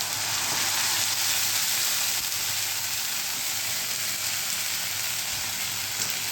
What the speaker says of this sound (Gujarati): લસણ વઘારમાં મૂક્યું મેં, હિંગ ને લસણ.